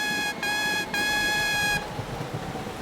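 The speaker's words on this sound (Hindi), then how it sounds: "मैं अपना हॉर्न बजाता हूँ।" A bright, buzzy cartoon train horn honks three times in quick succession, the last blast held longer, over a low rumbling background.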